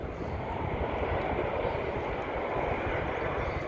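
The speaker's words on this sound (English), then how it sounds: "listen to those reverse thrusts" Airliner landing at Charlotte airport with reverse thrust, heard as a broad, steady roar that is fairly loud and continuous throughout.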